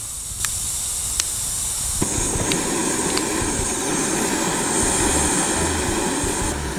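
A camping stove burner lit under an iron hot sandwich maker catches and then roars with a loud, steady hiss of flame close by. A few faint clicks come before it, and there is no talk.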